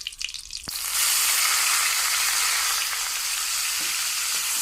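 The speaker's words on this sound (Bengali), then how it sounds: "এবার এর মধ্যে দিয়ে দেবো পেঁয়াজ পেস্ট।" Onion paste hits hot oil with cumin in a pan. A quiet start gives way to a sudden loud burst of sizzling, which settles into a steady, close, intense frying hiss with no voices.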